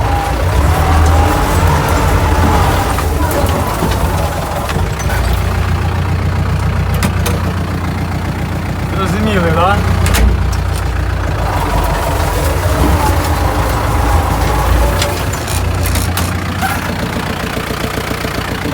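A steady, low tractor engine idle rumbles continuously throughout, running close by with occasional faint knocks and rattles.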